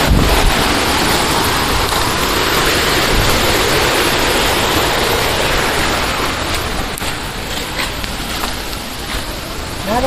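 A tall waterfall at Karumparai in Kanyakumari pours in a steady, loud, broadband roar that stays constant and close throughout, easing slightly toward the end.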